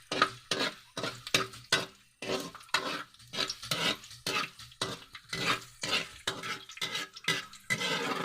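Annatto seeds sizzle and crackle in hot cooking oil for roasted pork, a steady close frying hiss broken by repeated rhythmic scraping stirs, with no talk.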